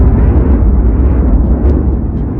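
A huge explosion sound effect portraying the violent blast that gave birth to the Sun: a loud, deep, sustained rumbling roar that fills the whole moment with no break and no voices.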